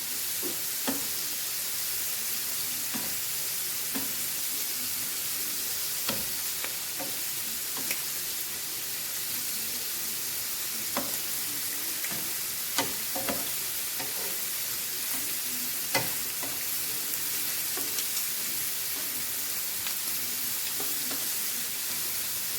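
Shrimp fry in a pan with a constant loud hissing sizzle, while light clicks and taps from turning them recur irregularly throughout, close by and with no speech.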